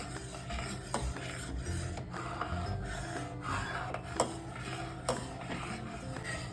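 A spoon scrapes and rasps continuously against a pot of hot milk being stirred while it cools for curd, with irregular clinks and knocks throughout and no voices.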